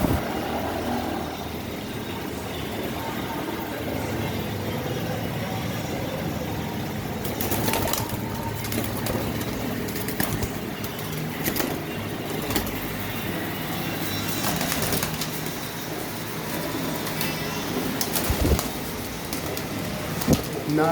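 Flock of racing pigeons in a loft, soft cooing and wing flaps over steady background noise throughout, with occasional sharper rustles and knocks.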